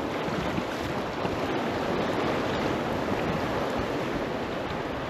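River white water on the Reuss in Switzerland, heard while floating downstream in a boat: a steady, loud rush of churning water and waves runs unbroken throughout, with wind buffeting nearby.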